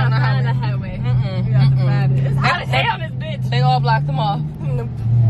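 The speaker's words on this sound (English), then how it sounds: "Traffic." Road traffic with cars passing on a blocked-off stretch near a highway, heard as a steady low engine drone inside a car under near continuous loud talk from several people.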